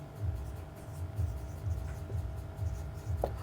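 A marker or chalk writes on a board during a classroom lesson in a series of soft, rhythmic scratching strokes, steady and close, with no speech over them.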